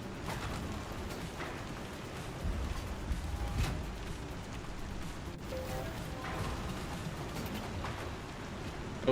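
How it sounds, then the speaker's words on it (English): Rain in the video game Star Citizen falls as a steady, dense patter over a low rumble, continuous at moderate loudness with a few faint mechanical knocks. "I have a permanent rain sound now."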